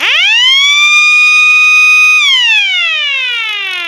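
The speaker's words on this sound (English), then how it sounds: "if we ever have to sound off a siren during an emergency with no power, we can." A 12-volt emergency warning siren wails loud and close, its tone rising quickly to a steady high pitch, holding, then winding down, with no voices.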